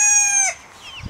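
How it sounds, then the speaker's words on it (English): A young chicken gives a single high, drawn-out call that bends downward, heard close and clear outdoors at a music festival. "Some little baby chickens"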